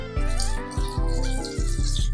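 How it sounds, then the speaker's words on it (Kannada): Water is poured into a pan of soya chunks gravy, a close gurgling splash that pauses and restarts in several short glugs, no talking. "ಹಂಗಾಗಿ ಸ್ವಲ್ಪ ನೀರು ಹಾಕೋಣ"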